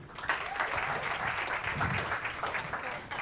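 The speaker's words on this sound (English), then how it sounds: "give one more round of applause to these people" An audience at a masterclass session on selling and social media claps steadily in a sustained round of applause, moderately loud and even throughout.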